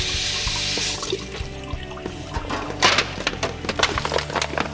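A turkey for an Asian brined roast is rinsed under a running kitchen tap, with a steady stream of water splashing over the bird into the sink and irregular louder splatters as it is turned and handled.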